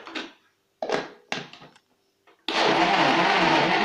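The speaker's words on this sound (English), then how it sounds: "So we blend them in batches." An electric blender chopping unripe green plantain pulses briefly three times with short gaps, then runs continuously at a loud, steady roar nearby.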